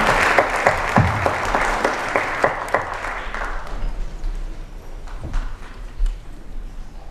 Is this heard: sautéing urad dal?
no